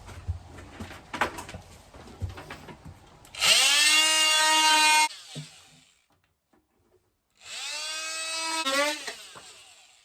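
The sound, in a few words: multi-tool cutting in a narrowboat galley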